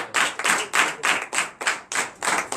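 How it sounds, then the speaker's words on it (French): A congregation at a night deliverance and prophecy church service claps in rhythm, about nine sharp, loud bursts of hand claps in a steady beat with no talking over them. "On applaudit cela."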